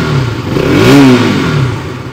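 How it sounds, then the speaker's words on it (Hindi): A 2024 KTM RC200 motorcycle revving in place, its exhaust note rising to a peak and then falling back to idle, loud and close, with no speech. "आपको इसका एग्जॉस्ट नोट भी एक बार सुनाता हूँ"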